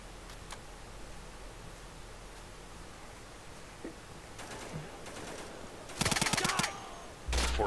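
Gunfire from the video game Insurgency crackles in two short bursts late on, a rapid automatic volley followed by another loud shot, over a steady hissing ambient background with a few faint distant pops earlier.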